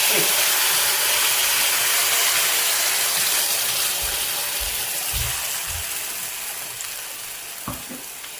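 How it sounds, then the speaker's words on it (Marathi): Ground masala and chopped green chillies hit hot oil with a loud, bright sizzle that slowly fades, broken by a few low thumps and stirring knocks near the end. "आता आपलं तेल तापलेलं आहे। त्यात सर्वात प्रथम मी टाकते कापलेली हिरवी मिरची।"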